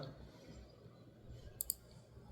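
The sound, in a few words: mouse clicks while editing a WordPress page with Elementor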